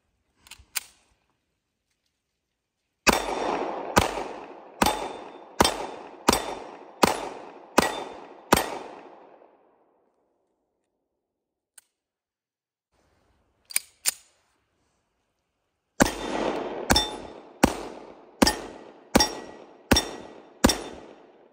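A Luger pistol and then a Colt 1911 pistol fire in two strings of about seven sharp, evenly spaced shots each, with a few isolated clicks and long silent gaps between.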